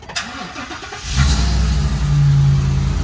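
The engine of a 2023 Thor Four Winds 24F RV cranks and catches after a brief pause, then settles into a loud, steady running rumble close by, with no voices.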